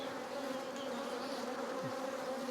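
Honey bees in a busy hive make a steady, dense, faint hum that fills the whole stretch with no voices.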